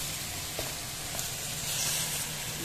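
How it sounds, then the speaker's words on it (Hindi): Chicken frying in a pan while cooking a restaurant-style chicken jalfrezi, a steady soft sizzle and hiss running continuously and fairly quietly throughout, with no talking. "चिकन फ्राई हो रहा"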